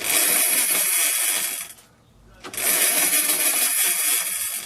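An electric drill fitted to a dirt bike spins the back wheel, giving a loud, rough mechanical roar that cuts out briefly in the middle and then returns just as strong.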